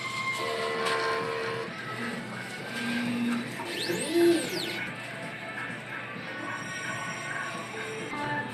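A DTF printer running a nozzle check whirs and hums steadily with mechanical carriage movement and a sweeping tone midway, a continuous machine sound nearby with no clear talk.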